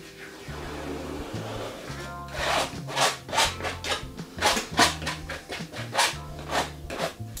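A fully loaded palette knife drags thick paint from right to left across a canvas while a seaside scene is painted. The scraping comes as a run of rhythmic rasping strokes, close and fairly loud, over quiet background music.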